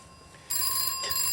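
A telephone rings indoors in a drama scene, a loud, steady electronic bell tone starting abruptly and continuing alone, close and clear.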